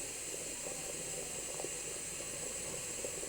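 Radish curry pieces frying in a pan, a steady soft hiss and sizzle throughout with faint clinks, fairly quiet and continuous.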